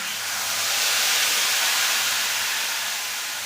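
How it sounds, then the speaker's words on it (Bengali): Ground spice paste hits hot oil in a pan with a continuous loud hiss and sizzle, steady and close throughout with no talking. "এবার দিয়ে দিচ্ছি বাটা মশলাটা"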